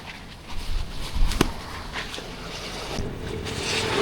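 Wind buffets the microphone of a moving motorcycle in a low, rumbling rush that swells and eases over a few seconds, with no voices.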